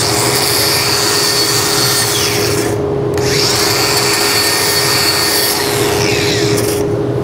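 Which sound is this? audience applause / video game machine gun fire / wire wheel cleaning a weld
wire wheel cleaning a weld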